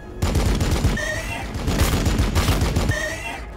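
Rapid bursts of gunfire in the Warhammer 40k Battlesector video game, dense crackling volleys with booming low thuds lasting a few seconds, loud and close, with a brief voice mixed in.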